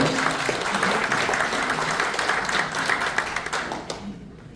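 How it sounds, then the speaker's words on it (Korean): An audience at a launch rally in a press club hall applauds steadily, a dense wash of clapping at a fairly even level that thins and fades near the end. "우리 청년 양구경 단장님의 건강을 위해서 다시 한번 박수를 주십시오."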